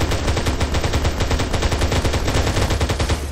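Rapid automatic gunfire in the video game Arma 3 hammers out in a loud, continuous stream of close-range shots with no pauses.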